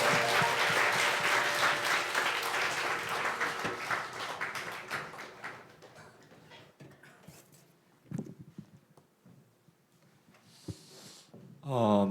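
Audience applause at a Korean worship concert, a dense burst of clapping that fades over several seconds into sparse claps and room noise, with a brief voice near the end.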